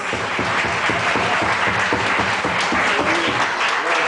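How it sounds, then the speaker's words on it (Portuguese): A church congregation applauds in steady, dense clapping that fills the room, loud and continuous, with faint voices mixed in. "Aplauda o nome de Jesus"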